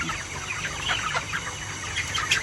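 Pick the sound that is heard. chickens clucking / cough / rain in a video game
chickens clucking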